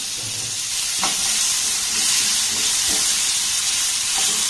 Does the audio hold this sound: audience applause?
no